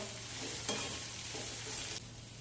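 Bitter gourd slices get stirred and mixed in a pan, a soft steady sizzle with a few muffled scraping strokes, fairly quiet and close, with no talking.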